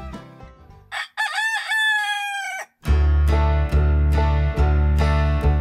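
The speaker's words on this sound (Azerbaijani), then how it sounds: "Günəşin ilk doğuşu, xoruzun səsi məni yuxudan oyatdı." A rooster crows loudly and close at dawn in Xanəgah village, Quba district, giving one drawn-out cock-a-doodle-doo after a few brief calls. Loud music then starts and continues to the end.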